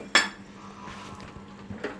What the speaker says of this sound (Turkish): Diğer bir tenceremi alıyorum.